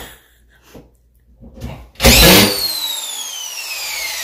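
A cordless drill whirs on suddenly and loudly after a few faint knocks, then holds a steady high whine, close by during renovation work.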